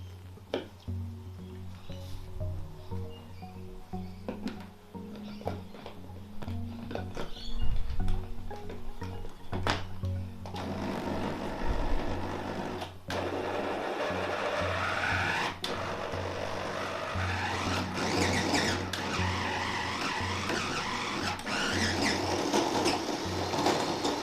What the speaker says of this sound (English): I'm going to use this churning attachment